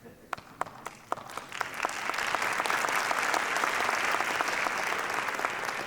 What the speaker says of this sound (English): you guys are still clapping